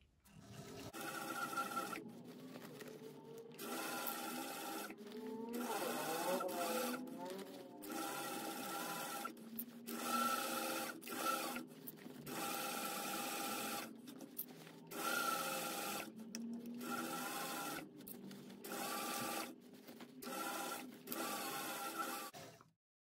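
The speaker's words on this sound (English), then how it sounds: "you just need to sew that on with a 3/8 inch seam allowance" A sewing machine stitches the base onto a bag lining with a 3/8 inch seam allowance. It runs close by in repeated short bursts with brief stops between them, a steady mechanical whir that starts and stops over and over.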